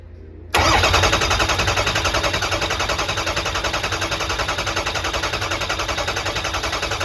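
A Ford Excursion engine cranks and catches at once, settling into a loud, steady running rhythm with a fast, regular pulsing throughout, close by and with no talking.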